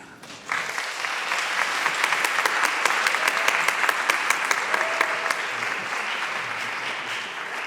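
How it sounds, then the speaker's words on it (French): Theatre audience applauding after performers are introduced at a stage show, a dense crowd of clapping starting abruptly and holding steady and loud throughout, with sharp individual claps standing out. "Merci de les applaudir"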